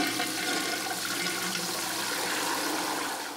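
A toilet flushes with captured rainwater in a bathroom at a production facility, a loud, steady rushing of water that carries on throughout and eases slightly at the end.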